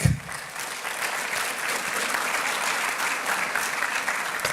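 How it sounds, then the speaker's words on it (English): A large audience at a SUNY Downstate Medical event applauds, dense even clapping that holds steady from start to finish, moderately loud and unbroken. "let's give ourselves a big round of applause"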